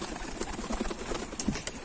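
A pigeon that has just landed coos softly in a few low, muffled bursts against a busy background hiss, with no one talking.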